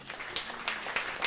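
Audience applause at a stage concert greets the first violinist of a string quartet, a steady wash of many hands clapping at moderate distance, fairly soft, lasting the whole brief moment with no voices over it.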